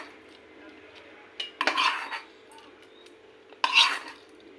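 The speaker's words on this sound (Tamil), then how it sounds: "இப்போ இதில் நம்ம இதில் இந்த தாளியத்தை போட்டுறோம்" Tempering is tipped into boiling paruppu sambar in two short, bright bursts of sizzle, each with a clink of the ladle against the pot, over a quiet kitchen background.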